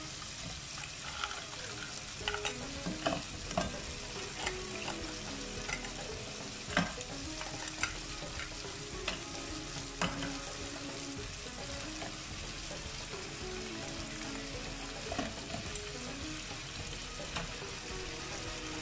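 Washed, cut blue crabs frying in a spicy masala in a pan, a constant sizzle with stirring and scraping from a spoon, plus occasional louder clanks against the pan.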